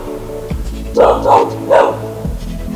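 A few sharp dog barks, fairly close, set against a steady low background hum.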